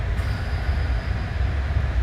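In a train simulator game, a passenger train runs on track near Bristol with a steady low rolling rumble and faint periodic thumps from the wheels crossing rail joints.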